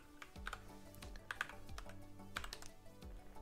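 Keys on a computer keyboard tapped in a quick, uneven run of soft clicks, quiet and close, over a faint background hum.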